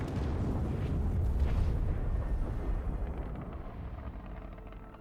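A ship in Elite Dangerous is blown up by police, heard as a deep, rumbling explosion that booms heavily and then slowly fades out over several seconds.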